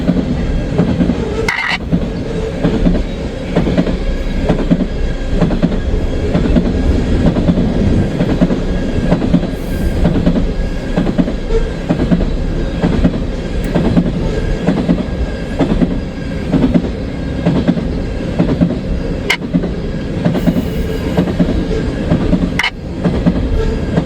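A fast freight train rips past close by in Kentucky, a loud sustained roar of rolling cars with rhythmic wheel clatter and occasional squeals throughout, no voices.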